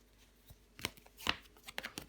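Tarot cards are handled and laid out on a table, with a few sharp close snaps and light slides of card stock in quick succession, no talk.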